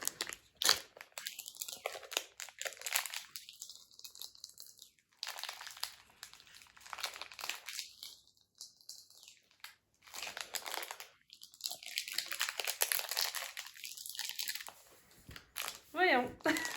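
Plastic packaging of Doorables toys crinkles and crackles while being wrestled open, a close, busy rustling that runs almost the whole time, broken by brief quiet gaps, with a person talking at times.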